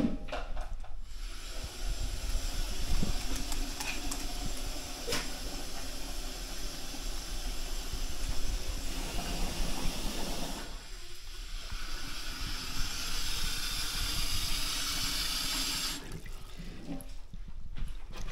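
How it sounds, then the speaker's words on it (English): Water pours steadily into a metal camp oven, a long hissing, splashing stream that briefly pauses midway, then resumes before stopping. "Actually, I'll put some water in here first"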